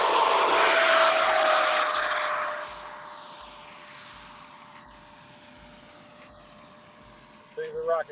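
An Eflite F/A-18D RC jet with a new fan setup roars loudly as it takes off from a runway, its whine fading quickly into the distance as it climbs. A voice is heard near the end.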